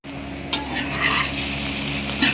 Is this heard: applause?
no